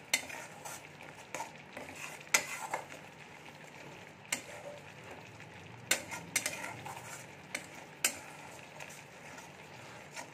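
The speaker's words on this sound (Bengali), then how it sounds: "মশলাগুলো আমি আবারও খুব ভালো করে কষিয়ে নেব।" Ground coriander, cumin and Kashmiri chilli powder sautéed in a pan, with a low steady sizzle and repeated sharp spoon clinks and scrapes against the metal, close and without talk.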